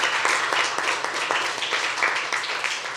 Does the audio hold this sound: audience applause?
yes